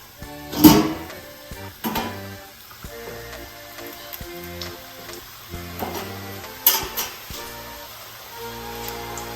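Quiet bubbling sizzle of chrusty (faworki) pastry dough frying in hot fat, broken by a few sharp clanks and knocks of utensils or cookware nearby.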